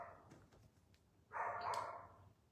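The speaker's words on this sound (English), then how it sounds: "that's what Miss Bailey is barking her head off at" A dog gives a single loud bark at lawn crews mowing nearby, preceded by a few faint yips and low background noise.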